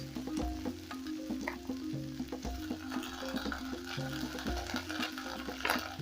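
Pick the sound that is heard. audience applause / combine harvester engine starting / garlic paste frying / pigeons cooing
garlic paste frying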